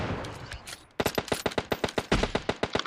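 Gunfire in the PUBG Mobile shooter game: a short burst, then a rapid run of loud automatic shots in a steady rhythm, no talking.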